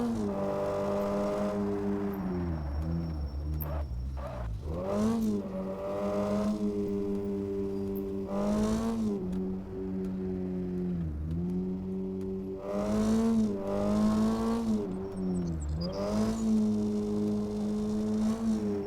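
A car in the Money Simulator video game drives with a continuous engine hum that rises and falls through repeated gear shifts and revving, loud and steady throughout with no talking.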